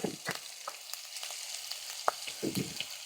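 Chopped ginger fries in hot oil in a pan with garlic, a soft steady sizzle broken by scattered scrapes and clicks of a spoon stirring.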